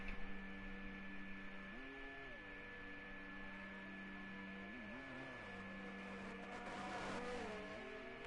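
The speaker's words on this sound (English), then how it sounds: "it's good seeing the cars come through" Race cars in the F1 22 console game at Baku: a faint, continuous engine drone whose pitch dips and rises as cars come through, with a slightly louder swell toward the end. No voices.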